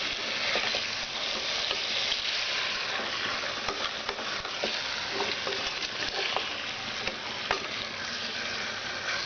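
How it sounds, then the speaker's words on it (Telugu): Chicken pulao mixture being stirred slowly from bottom to top in a pot, with steady scraping and clinking spoon strokes over a constant background sizzle, close and moderately loud, no talking. "ఇదంతా వేసుకున్నాక కింది నుంచి పై దాకా మెల్లిగా కలుపుకోవాలి."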